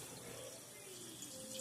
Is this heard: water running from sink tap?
yes